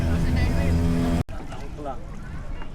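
A small motorboat (bangka) engine drones steadily and loudly at close range, with a brief cut near the middle; voices talk over the running motor.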